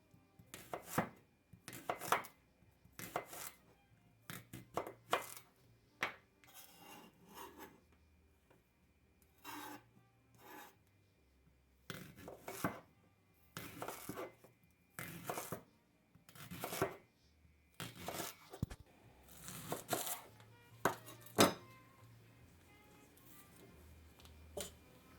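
A knife slices leeks on a cutting board in a quiet kitchen, with crisp, close rasping chops arriving in uneven bursts, sometimes in quick clusters and sometimes spaced apart, with no talking.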